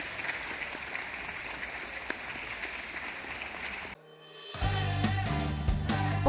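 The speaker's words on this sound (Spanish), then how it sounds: "Le despedimos con un fuerte aplauso y con el agradecimiento de la Semana Negra." Audience applause closing a book presentation at the Semana Negra festival, a faint, steady crowd clapping that cuts off abruptly, followed by louder music starting up.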